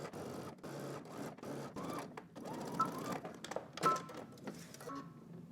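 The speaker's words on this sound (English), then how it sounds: "We're going to stitch this down using 5/8 of an inch seam allowance" Sewing machine stitching a 5/8 inch seam, quiet bursts of rapid needle chatter starting and stopping in short runs, close and fairly soft.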